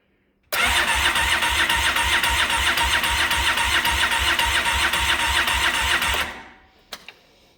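A 2013 Polaris RZR 800s with a Rev6 cam cranks and catches abruptly. Its engine runs loud and close with a rapid, pulsing idle for several seconds, then shuts off and fades, followed by a couple of small clicks.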